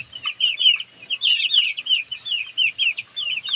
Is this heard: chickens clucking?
yes